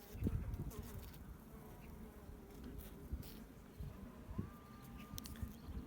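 Quiet, continuous buzzing of honey bees around a hive, with occasional faint knocks and rustles nearby.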